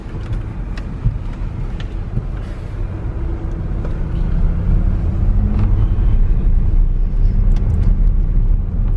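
A Porsche Cayenne S Sport diesel engine idles with a rough, steady low rumble that grows slightly louder partway through, with faint clicks and shuffling nearby.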